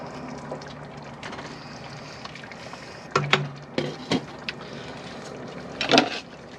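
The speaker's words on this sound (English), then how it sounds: "Noodles one more stir, make sure they're not sticking to each other." Spaghetti noodles are stirred in a cooking pot, with a soft watery background and several sharp scrapes and knocks of the utensil against the pot in short clusters.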